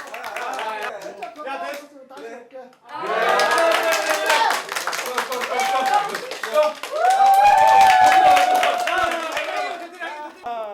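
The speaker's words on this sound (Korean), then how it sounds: "박수." A group of friends gathered to support a man before his nerve surgery break into clapping. The applause comes in bursts, mixed with lively overlapping voices and cheering close by.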